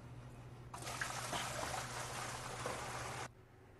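Four gallons of liquid sanitizer solution poured into the hopper of a SaniServ Model 704 frozen beverage machine make a steady, close splashing gush that starts abruptly, holds for about two and a half seconds and then stops cleanly over a low hum.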